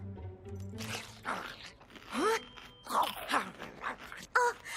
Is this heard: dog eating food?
yes